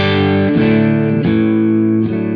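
A sustained electric guitar chord rings through a Cornford Harlequin amplifier with a scooped, mid-cut, distorted tone, restruck a few times in steady succession.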